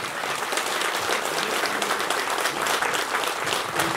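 Thunderous applause from a large crowd at a building inauguration and annual celebration in Hatiya Chisapani, Gairigaun, a loud, dense, continuous roar of clapping that stays full and even throughout.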